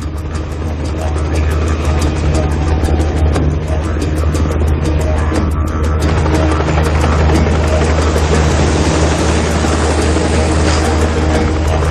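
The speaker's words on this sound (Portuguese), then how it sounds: "Os cowboys utilizam helicóptero para empurrar as vacas." A helicopter herds cattle across a large ranch, its loud, steady engine roar and rapid rotor chop throbbing continuously and close throughout.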